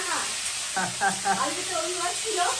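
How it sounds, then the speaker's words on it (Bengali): Potatoes frying with onion stalks in a pan give off a soft, continuous sizzle with a few faint stirring clatters, quiet and close, with brief murmurs in the background. "পেঁয়াজ কলি দিয়ে আলু ভাজা হচ্ছে"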